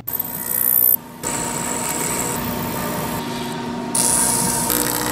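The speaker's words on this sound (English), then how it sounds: "so we threw it on the mill and removed some material." A milling machine cuts away material from a Unity offset optic mount, giving a steady high mechanical whine and grinding that drops briefly and then returns louder.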